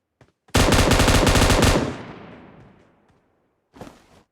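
A loud, close burst of M249 light machine gun fire in the video game BGMI lasts about a second and a half and then trails off in a long decaying echo, with a short second burst near the end.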